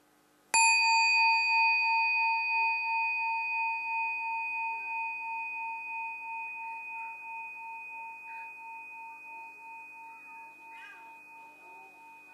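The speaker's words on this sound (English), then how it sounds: "The full sound is like this." A Buddhist meditation bell is struck once and rings out loud and clear, its pure sustained tone slowly fading over about twelve seconds with a gentle wavering shimmer, and nothing else is heard.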